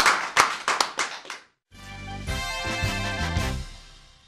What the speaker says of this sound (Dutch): Dames en heren, geef ze nog een applaus